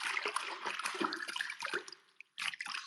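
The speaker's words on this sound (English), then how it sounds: "can hear me moving in the water" Water splashes and sloshes in a bath as someone moves around in it, with close, irregular swishes and drips, a brief lull, then another burst of splashing.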